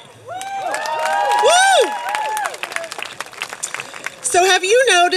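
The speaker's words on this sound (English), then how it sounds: "please give yourselves a round of applause because you deserve it" A rally crowd breaks into loud applause and cheering, with high whoops and shouts rising above steady clapping. A single close voice whoops near the end.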